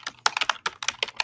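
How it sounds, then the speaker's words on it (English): Fast, close typing on a computer keyboard, in quick irregular bursts of crisp keystroke clicks with short pauses between them and no voices. "who's tapping on the frickin' keyboard"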